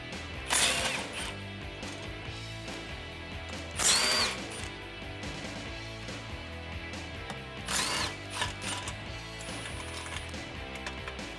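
A ratchet wrench on small 8mm bolts of a 2015-2019 Ford Mustang dust shield gives a steady run of fine mechanical clicking, broken by a few louder bursts of bolt and metal handling, close up with no talking.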